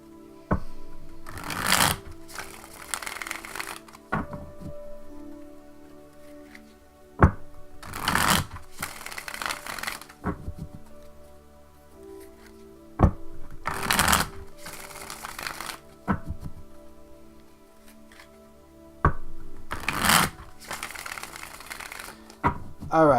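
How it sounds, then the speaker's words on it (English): A tarot deck is shuffled by hand in repeated riffling bursts, each a few seconds long, crisp and close, separated by quiet pauses and a few sharp taps as the cards are squared. "Alright, just a few more shuffles."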